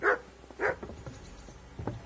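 Two sharp dog barks near the start, followed by softer yips and a final short bark, close and fairly loud, from the video game Kingdom Come: Deliverance.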